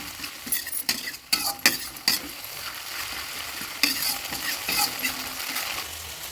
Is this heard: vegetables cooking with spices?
yes